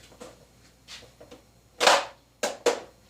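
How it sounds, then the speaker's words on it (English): An Xplorer Xeliminator foam dart blaster gives a few light mechanical clicks, then fires with a loud, sharp pop. Two more quick snapping bursts follow close up. "We're going to shoot one full-length dart and then a few X-tip V3s"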